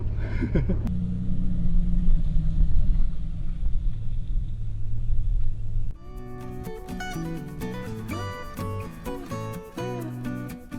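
A 4WD vehicle drives along the Skippers Canyon track in New Zealand, its low engine and road rumble steady and close for about six seconds before music takes over.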